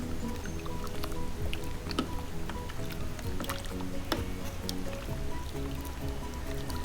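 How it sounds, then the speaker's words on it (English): Water is stirred into a pot of South Indian carrot-beans sambar with dal, tomato and potatoes, giving continuous close wet sloshing with scattered drips and small splashes. "So I'm gonna put water and I'm gonna stir it all"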